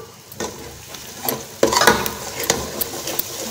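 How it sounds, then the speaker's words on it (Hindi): A spoon stirring yogurt into chickpea masala in a hot pan, with wet scraping strokes and sizzling that grow louder after a quiet start and keep going in uneven bursts. "मसाले के साथ अच्छे से मिक्स कर दें।"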